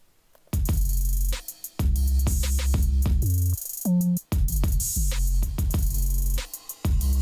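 A dry FL Studio trap beat with booming 808 bass notes sliding between pitches under a steady kick and hi-hat pattern, played loud with no effects.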